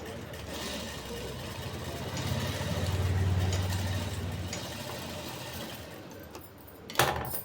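A sewing machine runs steadily while stitching the waistband of a palazzo, a continuous mechanical whir that swells slightly mid-run, ending with a sharp click.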